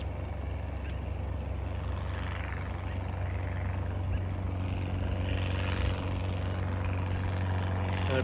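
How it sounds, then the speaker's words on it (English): A small propeller plane passes over a stretch of the Snake River in Idaho, a steady droning engine hum that swells slightly and lingers at moderate distance throughout. "Another plane coming. Maybe a little bit loud."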